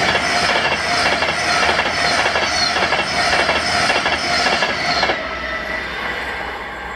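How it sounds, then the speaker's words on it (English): A Virgin Pendolino, unit 390045, on the Glasgow Central to London Euston service passes at Carluke, loud and close. Its rushing roar carries rhythmic wheel clatter and a high squeal, then cuts to a lower fading rumble near the end. No one speaks. "this was 1M11, the 1059 Virgin train service to London Euston from Glasgow Central"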